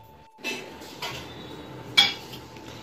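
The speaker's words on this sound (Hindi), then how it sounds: "तो ये मम्मी बर्तन वॉश कर रही है" Dishes and utensils being washed by hand, with a few separate clinks and knocks of metal and crockery over a quiet background of running water.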